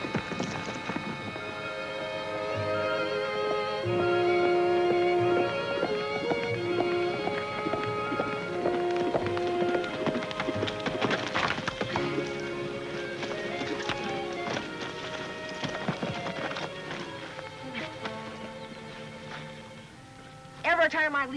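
Ridden horses trot and gallop in an old Western TV show, with hoofbeats running under a loud orchestral score that plays throughout.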